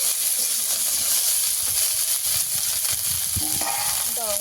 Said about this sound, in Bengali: এবার সব কিছু একসঙ্গে ভালো করে ভেজে নেব।